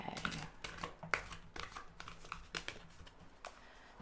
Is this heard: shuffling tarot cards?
yes